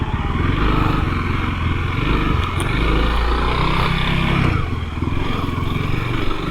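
A 2021 Honda CRF300L dual-sport motorcycle rides slowly in first and second gear through tight areas, its single-cylinder engine putting out a loud, steady close-up drone with slight throttle changes and wind noise.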